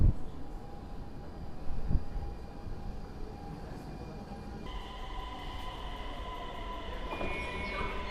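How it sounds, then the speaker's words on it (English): A train pulls into a Copenhagen station platform with a steady low rumble and rising rail squeal, near and continuous, under ambient station noise. "Anyway, here comes the train."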